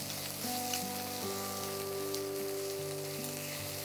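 Spices and ground masala sizzle steadily in hot ghee for Bengali ghee fish cooked without garlic, a close, continuous crackle with a few soft stirring scrapes and steady tonal hum underneath, no voices.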